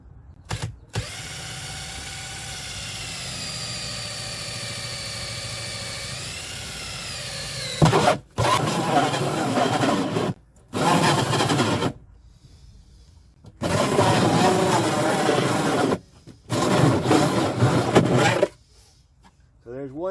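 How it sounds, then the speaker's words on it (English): A 4-inch hole saw on a drill bores into a plastic sump basin, a high whining, grinding run first and then several shorter bursts with pauses between, close and loud. "we're going to use a 4-inch hole saw to come a little deeper"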